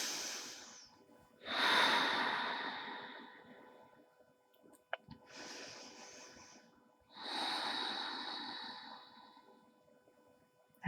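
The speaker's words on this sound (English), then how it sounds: "Let's take a couple more deep breaths here." Deep, slow breaths during a seated chair yoga session, with three long audible exhales through the nose and mouth separated by quiet pauses, close and fairly soft.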